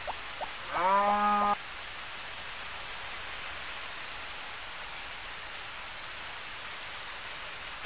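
Steady rain hiss falls in the Harvest Moon farming game, a soft even wash of noise running throughout, briefly overlapped near the start by a short musical game jingle.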